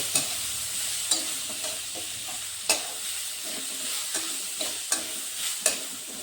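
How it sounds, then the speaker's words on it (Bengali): Washed, drained moong dal frying in a pan with a steady quiet sizzle, broken by scattered sharp scraping clicks as a spoon stirs the lentils; no voices. "ডালগুলোকে একটু আমি ভেজে নেব"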